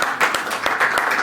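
Brief burst of audience clapping at a Paris press conference, a close, dense patter of hands lasting about a second, with no voices over it.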